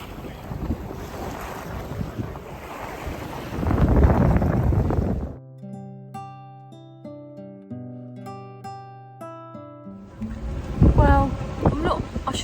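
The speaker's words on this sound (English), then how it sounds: "We do have a sort of 18, 19, 20 knots of wind and gusting" Gusting wind of 18 to 20 knots roars and buffets the microphone aboard a sailboat on a round-Britain voyage, loud and rushing, cut by a stretch of music midway, with a voice speaking as the wind returns.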